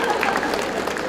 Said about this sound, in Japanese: 改めて拍手お送りください。